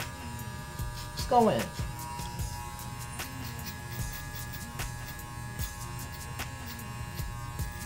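Electric hair clipper buzzing while cutting hair for an undercut with beard at a barbershop, a close, steady motorized hum under a barber talking, with one brief louder burst early on.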